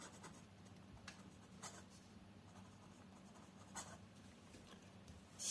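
Wingsung fountain pen with a steel F nib writing on paper: very faint, close, dry scratching strokes in short irregular bursts against a quiet room hum.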